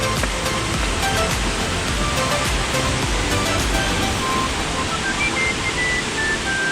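Lankvoku waterfall in the hills of Karbi Anglong, Assam, roars in a steady, loud wash of rushing water that stays constant throughout without pause.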